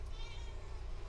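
A house cat gives a short, thin meow indoors, faint and somewhat distant over a steady low background hum, with no talking.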